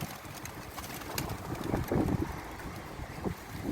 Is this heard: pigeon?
yes